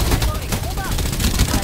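Rapid gunfire in the Farlight 84 video game crackles in dense bursts under a busy game soundtrack, with voices around it.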